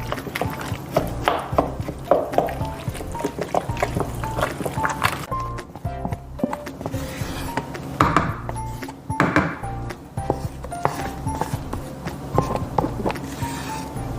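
Cool Whip being stirred into pudding for Watergate salad, giving a soft, wet squishing and scraping that carries on steadily for several seconds over background music.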